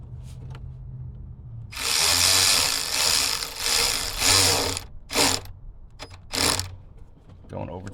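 A ratchet tightening a bolt during a fan clutch replacement on a 2004 Dodge Ram 1500 with the 3.7L engine: loud close bursts of rapid clicking, then several shorter separate strokes, all alone.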